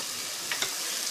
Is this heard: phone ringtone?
no